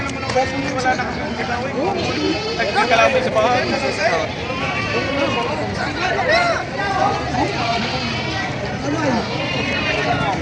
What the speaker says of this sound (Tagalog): May magaganda dito ano. Magagandang kambing.